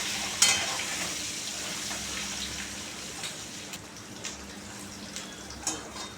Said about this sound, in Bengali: এবার একটু সামান্য লবণ আর সামান্য হলুদ দিয়ে ডিমগুনাকে ভালো করে একটু লাল লাল করে ভেজে নেব